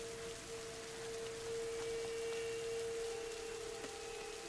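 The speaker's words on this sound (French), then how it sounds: "Genre, il commence à pleuvoir." Steady rain in the video game A Plague Tale: Innocence patters evenly over a low hum, continuous and moderately loud, with no voices.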